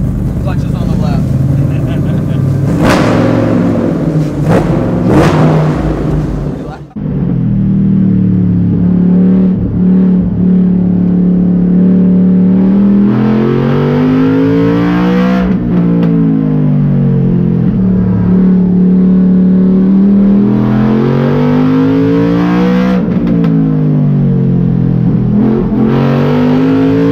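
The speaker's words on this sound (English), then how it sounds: "this is essentially what the new GT500 will sound like" Exhaust of a Ford Mustang with a supercharged engine previewing the Shelby GT500, loud and close, idling and then revving repeatedly in rising and falling sweeps, with a deep bass tone throughout.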